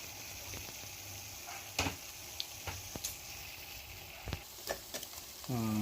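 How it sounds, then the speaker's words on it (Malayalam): Masala paste for a sardine pickle frying in a pan gives a soft, steady sizzle, broken by light scattered clicks and scrapes of stirring, with a voice starting at the very end. "അത് നന്നായി ഇളക്കി കൊടുക്കാം നമ്മുടെ അരപ്പ് നന്നായി മൂത്ത് വന്നിട്ടുണ്ട്"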